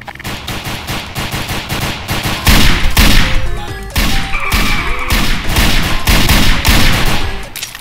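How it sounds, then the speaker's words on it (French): Rapid, overlapping bursts of gunfire pour down from a shooter positioned above in the game DarkRP, loud and nearly continuous with heavy cracks and echoing impacts throughout. "y'a le mec en haut qui nous tire dessus"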